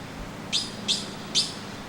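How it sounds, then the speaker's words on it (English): Three short, sharp high calls from red-billed blue magpies, evenly spaced and fairly close, standing out clearly against a quiet low background hum. "the remaining 2 red-billed blue magpies had become more suspicious"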